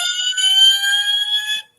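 A scratch-built model fire engine's siren sounds alone as a loud, steady electronic wail with a bright, buzzy tone, holding for about a second and a half before cutting off abruptly.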